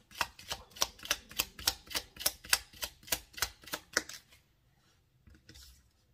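Tarot cards are shuffled for a card reading in about a dozen crisp, evenly spaced riffling slaps close by, followed by a pause and a soft card draw.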